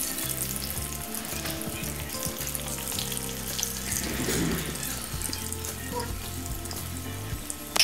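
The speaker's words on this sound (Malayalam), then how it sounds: "എണ്ണ കുറച്ചധികം ഒഴിച്ച് ഡീപ്പ് ഫ്രൈ ചെയ്തെടുക്കാം." Kozhikode-style unnakkaya balls deep-fry in a generous amount of hot oil, giving a close, steady bubbling sizzle with faint clinks and no talking.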